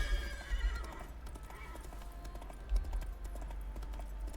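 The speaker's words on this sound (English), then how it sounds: "Wild horses!" Wild horses in Witcher 3 whinny loudly and clip-clop close by, with a sharp neigh near the start and thudding hooves running steadily under the calls.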